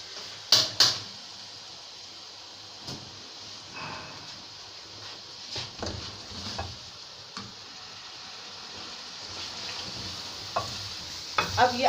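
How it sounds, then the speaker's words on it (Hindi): Potatoes for aloo matar fry in a pan with a low, steady sizzle, broken by a few sharp clicks and occasional stirring knocks near the start and end. "आलू को तकरीबन 1 से 2 मिनट तक भुना जाएगा"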